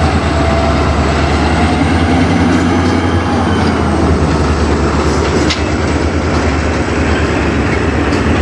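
A CN freight train rolls past at close range on the Strathroy Sub, a loud, steady rumble with clattering wheels on the rails that holds for the whole stretch, with no voices.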